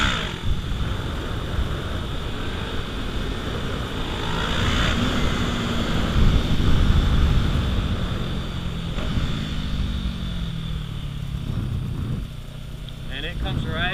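A dirt motorcycle engine revs and drones as the rider pops a stand-up wheelie, rising in pitch and loudness mid-clip before easing off, heard amid wind buffeting with someone talking over it.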